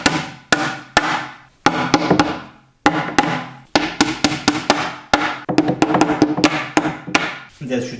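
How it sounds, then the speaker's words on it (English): A screwdriver taps IKEA ALEX drawer wooden parts into place in a series of sharp, close knocks, irregular in rhythm with short pauses between bursts. "Now I'm just gonna hit them a bit with my screwdriver."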